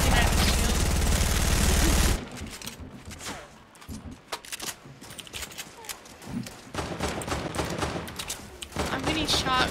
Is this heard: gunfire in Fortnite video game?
yes